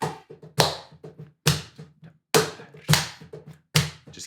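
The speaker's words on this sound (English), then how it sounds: "Clap along to the bulgar the whole time." Listeners clap along in time to a klezmer bulgar, sharp hand claps landing in a steady syncopated rhythm, about two per second, close and clear with quieter taps in between and no talking.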